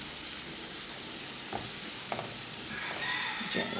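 A spoon stirring Jamaican callaloo ingredients in a pot, with soft scraping clinks and a faint steady sizzle underneath, quiet and close.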